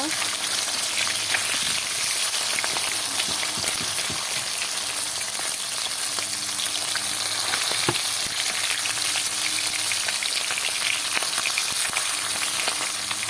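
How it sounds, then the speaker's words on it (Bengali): Pabda fish fry in a pan with a steady, dense sizzle that runs unbroken throughout, faint clatter now and then beneath the crackle. "বাকি মাছগুলোও ঠিক এরকমভাবে ভেজে নেব"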